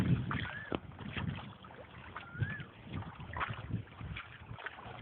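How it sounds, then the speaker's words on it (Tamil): A boat moves across open water, its low steady rumble and wash carrying on with light wind buffeting the microphone, and faint scattered sounds over the top. "இப்போ போட்டில் போகிறோம்"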